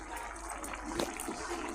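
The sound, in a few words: water poured into frying ivy gourd curry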